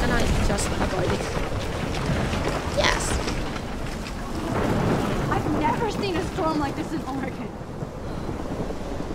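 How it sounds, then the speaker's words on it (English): Stormy weather in the video game Life Is Strange, set in Oregon: a continuous roar of wind and rumbling weather noise, loud and steady throughout, with faint talk mixed in. "I've never seen a storm like this in Oregon."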